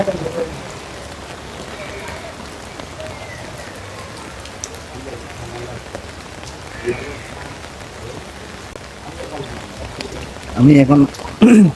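Heavy rain pours steadily over a waterlogged neighbourhood in Chittagong, a dense constant hiss throughout, with a few brief voices breaking in near the end.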